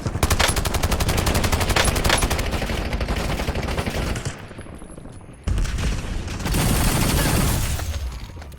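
Rapid automatic gunfire in the battle royale game Warzone, loud and continuous bursts that dip briefly midway before resuming at full intensity.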